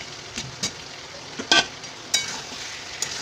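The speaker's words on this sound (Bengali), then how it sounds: "আলুগুলো দিয়ে এরকম এটাকে কষতে থাকবো কিছুক্ষণ" Potatoes sizzling as they are stir-fried with chicken in a pan, a soft, steady frying hiss broken by several sharp spatula scrapes and clinks, with no talking.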